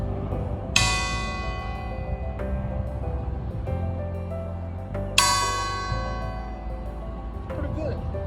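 An old bronze bell cast in 1888 by William and Sons founders of Jersey City is struck twice with a small rock, each hit ringing out as a bright, close tone that hums and slowly fades.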